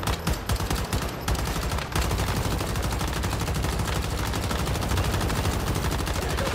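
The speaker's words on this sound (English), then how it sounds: "You can just shoot them all from here." Rapid, sustained gunfire in the video game Once Human, with a gunner build in a silo battle, hammering in dense repeated bursts, loud and close, with barely a pause throughout.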